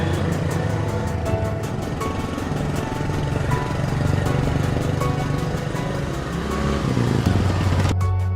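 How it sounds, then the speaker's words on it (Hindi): A cartoon scooter ridden fast buzzes loudly and continuously, its motor rising and falling with a rough, mower-like drone that shifts sharply near the end. "पॉटी बॉय शॉन स्कूटर बहुत तेज चला रहा है।"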